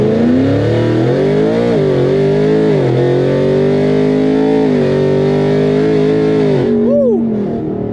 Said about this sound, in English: give it just a hair brake boost, and then we launch